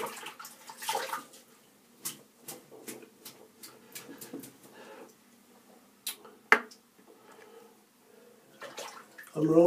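Pure badger shaving brush rinsed under a running tap, a quiet intermittent splashing of water with short bursts and pauses, close by and faint, ending in a louder gush.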